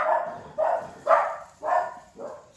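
A dog barks five times in an even rhythm, each bark bright and fairly loud with a brief tail, close by indoors in a home.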